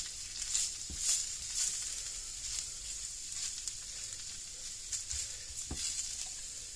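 Ingredients for tater tot casserole are stirred in a hot pan, with a steady quiet sizzle and a few soft scrapes of the spoon at intervals, alone without talk.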